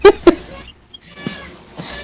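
A cat meows in short bursts, two sharp close cries followed by fainter, drawn-out bleating-like mews, loud and near with little else around.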